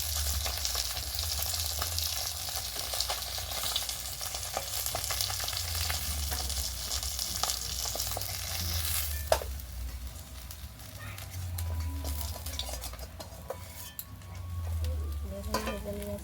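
Pieces of koi fish frying in a pan of hot oil give a steady, dense sizzle that runs the whole time, with faint crackles and a brief utensil knock partway through.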